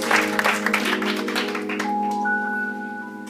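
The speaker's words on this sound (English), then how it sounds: "give the Lord a hand clap of praise" A church congregation claps in praise in a brief burst that fades quickly while sustained organ-like chords ring on underneath.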